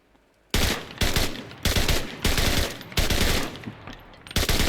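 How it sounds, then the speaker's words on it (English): In the video game Enlisted, an MG13 machine gun fires in several loud, sustained bursts separated by short pauses, each a dense rattle of rapid shots close up. "It's the MG13. This originally was a vehicle-mounted MG."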